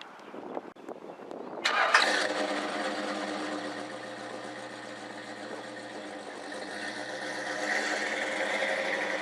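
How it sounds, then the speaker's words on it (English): A 1978 Chevy pickup truck engine cranks briefly, catches and starts after a repair, then settles into a steady, even idle. "once this repair was made, this truck starts right up and runs beautifully"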